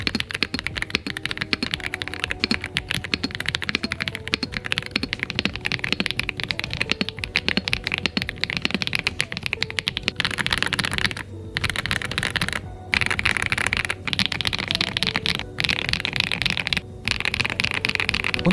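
Fast, continuous typing on a Shadow ZEUS65 65% mechanical keyboard with HMX Lemon Grape switches, heard up close as dense, crisp keystroke clacks with brief pauses.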